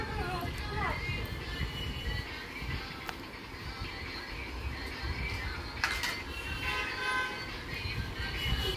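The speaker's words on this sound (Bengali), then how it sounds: "গাড়িটা পিপ পিপ করতে পারে? আচ্ছা সাউন্ড করে।" A toy jeep's horn beeping in short tinny toots at close range, mixed in with busy talk and clatter throughout.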